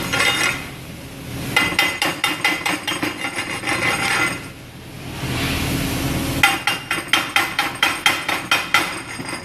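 Welding slag chipped off a weld with a chipping hammer, rapid bursts of sharp metallic taps in quick rhythmic strings, close and loud, with a short pause of scraping between.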